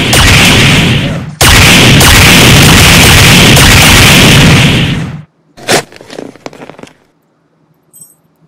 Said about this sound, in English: somebody is spin shooting that gun or something